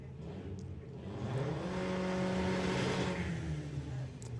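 A 1957 Chevy drag car named Grimhild accelerates hard down the drag strip on a test day, its engine note rising and peaking mid-run, loud and close, then fading slightly.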